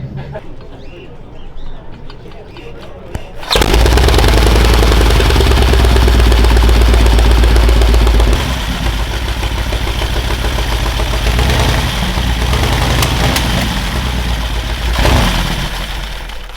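A custom-built 5000cc motorcycle engine at a motorcycle show fires up about three seconds in and holds a loud, deep, steady rumble close by, with someone talking over it.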